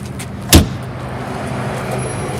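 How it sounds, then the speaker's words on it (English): A single sharp thud of a side compartment door being shut on a fire truck, loud and close, followed by a steady low idling hum. "This is our side door to get into the same compartment that we showed you before."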